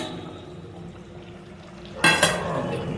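Potatoes are dropped into simmering chicken biryani gravy in a pot, starting with a quiet bubbling background before a sudden loud splash and sizzle, then clattering and stirring.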